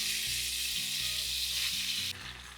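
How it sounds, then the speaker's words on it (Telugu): Eggplant pieces sizzle loudly in plenty of hot salted oil, a dense continuous hiss close up that drops noticeably near the end, with no voices. "నూనె ఉప్పు వేసిన తర్వాత ఇందులో మనం వంకాయ ముక్కలు వేసుకుంటున్నాం"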